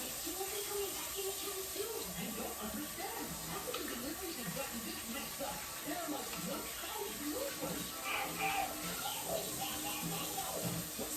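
Tap water runs steadily from a faucet while hands are washed, a continuous hiss with a person talking over it in a kitchen.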